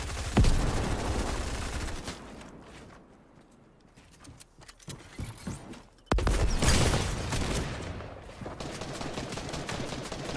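Gunfire in the video game Fortnite: a loud burst of rapid shots opens, thins to sparse scattered pops mid-way, then heavy continuous fire resumes and carries to the end.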